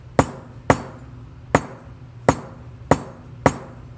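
Six sharp hammer blows on metal letter stamps struck into annealed jewelry metal, each a crisp, ringing strike with a short decay, spaced at irregular intervals about half a second to a second apart.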